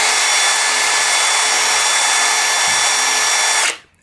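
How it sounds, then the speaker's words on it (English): A Dewalt drill bit in an impact driver bores a hole under a little side pressure, a loud, steady high whine running about three and a half seconds before cutting off abruptly. "So with the Dewalt drill bit, if I'm to try and drill a hole and put a little bit of side pressure on there"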